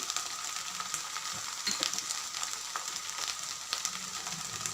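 Turmeric, chilli powder and curry masala sautéing in a pan for a chicken dish, a steady bright sizzle with occasional scraping stirs, close and continuous.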